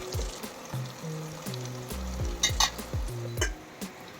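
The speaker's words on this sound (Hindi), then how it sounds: "आज का मच्छी फ्राई हो रहा है विदाउट हल्दी में" Fish frying in a pan without turmeric, a loud, close sizzle with sharp crackling spatters, plus repeated low thuds and scrapes of stirring throughout.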